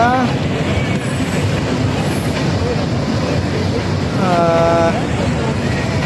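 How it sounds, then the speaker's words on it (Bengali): A train rumbles steadily past close by, with a continuous rolling roar and a brief high horn-like tone partway through. "ট্রেন চলে আসলো"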